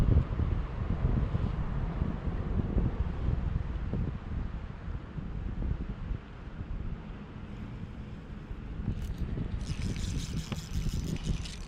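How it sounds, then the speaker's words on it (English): Strong wind buffets the microphone on the Chicago River during kayaking, a steady low roaring rumble that keeps going throughout, with faint higher hiss and water noise near the end. "It's an extremely windy day."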